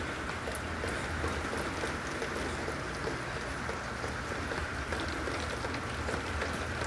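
Heavy rain pours steadily over a city in Jeddah, a dense, even hiss with no break and no voices.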